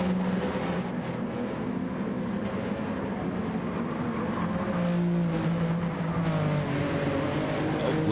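A McLaren race car engine drones steadily at Interlagos in a racing video game, its pitch rising and falling through gear changes, with other cars' engines mixed in and no clear pauses.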